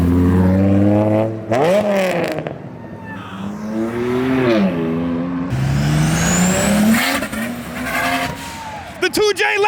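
A 2JZ-engined Lexus accelerates hard, its engine revving up through several gear changes with rising and falling pitch sweeps, loud and close, with people talking over it.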